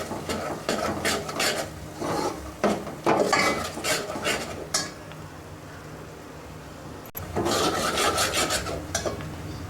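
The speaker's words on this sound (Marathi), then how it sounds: "आणि ही भाजी असा मसाला चांगला खरपूस भाजून द्यायचा." Masala spices being dry-roasted and stirred in a pan for a dhaba-style urad dal tadka, with repeated scraping, rasping strokes of a spoon against the metal, steady and close, broken by a brief pause before the stirring resumes.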